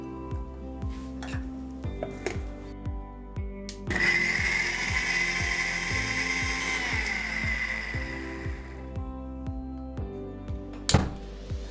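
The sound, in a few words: mixer grinder blending onions, tomatoes, ginger and garlic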